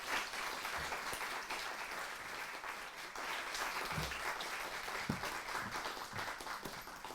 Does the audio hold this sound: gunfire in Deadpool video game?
no